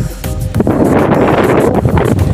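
Strong wind buffets the microphone on a hilltop in a steady, loud roar with low rumbling gusts and no talking.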